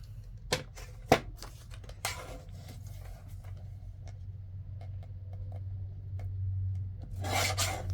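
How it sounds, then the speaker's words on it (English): Paper being trimmed to shape an envelope pocket: a few sharp snips near the start, then scraping and rubbing sounds over a low steady hum, close and fairly quiet, with no talking. "We'll just trim it off a little bit more."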